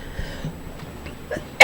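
A single abrupt sneeze bursts out at the very end, loud and close, after a stretch of quiet room sound with faint voice traces.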